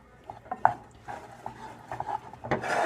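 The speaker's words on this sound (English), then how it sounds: "Remember to constantly mix them" A spoon scrapes and taps softly around a pan while marshmallows and butter melt together for monkey bread, giving a quiet, irregular stirring with small clicks and rubs.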